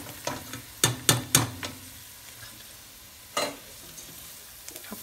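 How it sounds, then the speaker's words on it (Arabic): Rice is stirred and toasted in a pan alongside stuffed chicken, with a few scraping stirs and clinks over a faint sizzle. The stirs come in a quick cluster, then one more after a pause, close by, with no talking. "بس خلينا نحمصه شوي معاهم"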